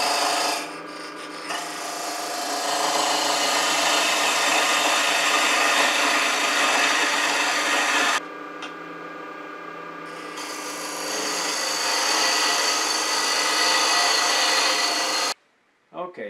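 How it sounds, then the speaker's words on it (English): A lathe tool taking a peeling cut on spinning holly wood, a close, steady scraping hiss from the turning that dips briefly partway through, then resumes and stops abruptly near the end. "Then you're going to drop the handle and take a peeling cut."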